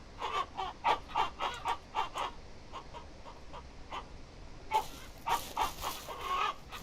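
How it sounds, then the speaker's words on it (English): Chickens in the Ranch Simulator farming game cluck close by in a steady run of short, repeated bursts, with a brief lull midway before the clucking picks up again, and no talk over it. "There's just chickens all over the place."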